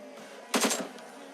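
PUBG gunfire: one short burst of three or four rapid shots cracks out over a quiet background and then stops.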